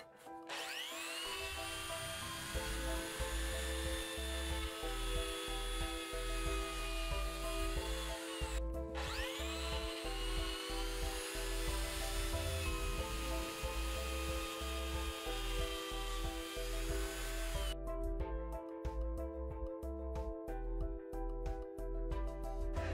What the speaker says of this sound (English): pull it back about half the router bit into the wood, and then slide it all the way across